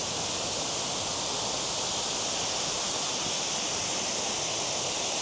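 Steady, dense rushing of falling water, a constant broad roar with no breaks, from a waterfall beside a road on Madeira heard from close by.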